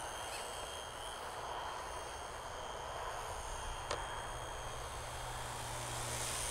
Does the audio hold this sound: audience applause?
no